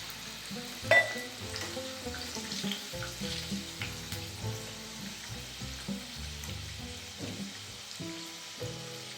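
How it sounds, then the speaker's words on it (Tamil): Wheat-flour halwa puri frying in hot oil, a soft steady bubbling sizzle with one brief louder pop early on and faint stirring clinks underneath. "எண்ணெய் சூடாயிடுச்சிங்க. பூரி போட்டாச்சு."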